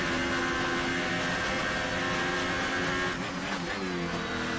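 A Formula 1 car engine from the F1 2018 game at Suzuka, Japan, a steady loud engine drone with harmonic whine throughout, pitch dipping slightly near the end as if lifting off the throttle out of a corner.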